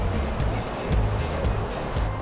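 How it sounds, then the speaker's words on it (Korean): Mountain stream at a creek crossing in front of a rural village, steady rushing and splashing water close by, loud and continuous with no talking. "황전마을 앞 마산천 개울을 건너가는데요"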